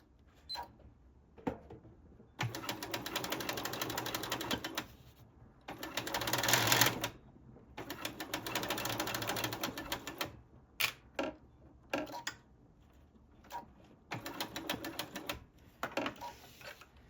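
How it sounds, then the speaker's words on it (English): Sewing machine stitching a binding edge onto quilted sneakers, running in several bursts of steady rapid needle clatter separated by short pauses, close up and with no talking. "You can see I have my machine set so that the needles, when the machine stops, the needle is down."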